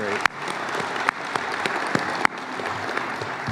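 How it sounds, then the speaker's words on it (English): Audience applause at a Veterans Appreciation Week event on a base, steady dense clapping with a few sharp louder claps, with some voices in the crowd under it. "Another round of applause for him."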